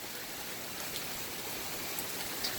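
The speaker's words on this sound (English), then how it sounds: "Believe it or not, we could use some of this rain because we've been kind of dry as of late." Steady rain falling outdoors in Southern Virginia, a dense even hiss of drops close by with no voices.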